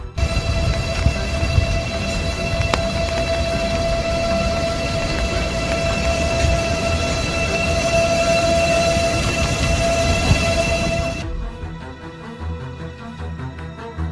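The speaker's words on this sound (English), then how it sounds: "Taking the train feels like taking a submarine on the water." A loud, steady rumble with a sustained whistling tone, like a train passing close by, which cuts off abruptly near the end.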